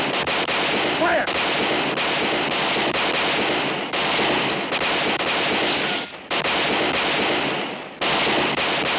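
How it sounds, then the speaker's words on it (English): Winchester rifles fire repeatedly during a Western shootout, with dense loud bursts of gunfire blending into a continuous roar broken by brief gaps. "Stop running and keep firing! These good old Winchesters."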